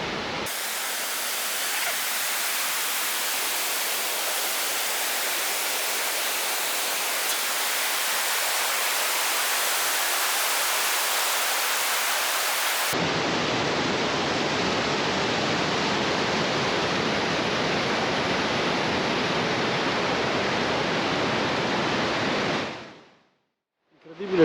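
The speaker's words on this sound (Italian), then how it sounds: "Intanto vi faccio vedere le cascate." Waterfalls on a motorcycle trip to Nordkapp give a steady, dense roar of rushing water. The sound runs unbroken at an even loudness, then drops away abruptly at the very end.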